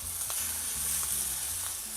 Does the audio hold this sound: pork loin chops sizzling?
yes